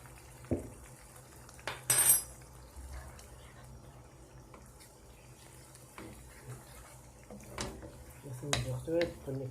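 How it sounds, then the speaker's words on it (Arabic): A utensil clinks and scrapes in a pot while food is stirred, in a few scattered knocks and scrapes over a quiet kitchen background. "نقلب شوية"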